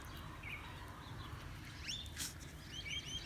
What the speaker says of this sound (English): A little bird over there digging in the dirt.